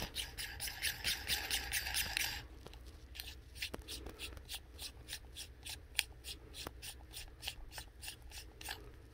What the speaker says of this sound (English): take a small screwdriver, something that'll fit in that hole there, and then just gently push, and that will unscrew